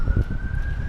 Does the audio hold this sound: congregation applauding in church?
no